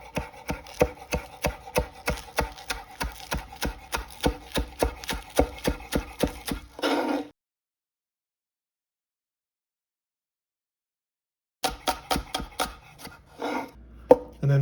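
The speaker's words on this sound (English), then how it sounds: "I'm just going to chop them down into bite-sized pieces" Knife chopping scallions on a cutting board, a steady run of quick, even thuds for about seven seconds, then a long silence before a few more rapid chops resume near the end.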